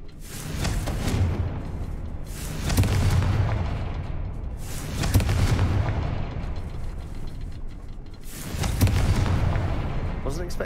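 Fiery Confringo spell blasts in Hogwarts Legacy, several booming explosions recurring every couple of seconds, each swelling loud and then rumbling off, with game sound continuing between them.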